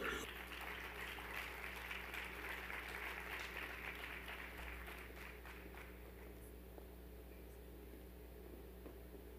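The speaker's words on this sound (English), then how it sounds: "Can we please give Dr. Townsend another round of applause?" Audience applause fills a school assembly hall during a Women's History Month event: steady, dense clapping that slowly fades and thins toward the end, heard from a distance at low volume.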